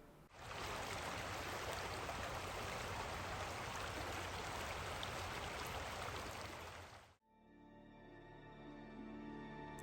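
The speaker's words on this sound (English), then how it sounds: "there's a nice little river that runs beneath it" A small river flows beneath a footbridge at a Napa Valley resort, a steady broad rushing of water that fills most of the stretch before cutting out abruptly near the end, close and fairly loud.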